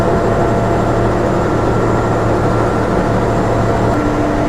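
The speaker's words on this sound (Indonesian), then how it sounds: "Untuk throttle idle dari lokomotif CC 206, merdu banget ya, suaranya itu halus banget" CC 206 diesel locomotive idling, a loud steady low rumble with a smooth humming tone, close and unchanging throughout, no voices.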